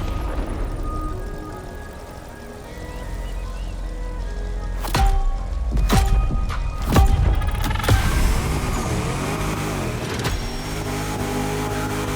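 A DeLorean drift car's engine in The Crew Motorfest racing game revs and swells, with sharp throttle blips and bursts in the middle of the stretch over steady background game noise.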